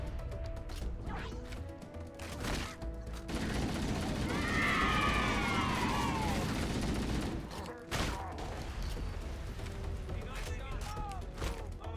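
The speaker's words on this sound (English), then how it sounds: "I love the Halo 1 version of the assault rifle" The assault rifle in the video game Halo: Combat Evolved fires in several bursts, the longest a sustained stretch in the middle, along with other game combat sounds and sharp impacts. A person talks over much of the action.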